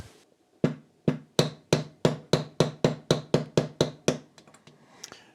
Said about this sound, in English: see whether I can hammer this out of the section